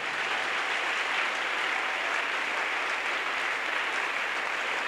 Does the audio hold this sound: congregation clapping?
yes